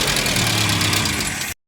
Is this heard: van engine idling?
yes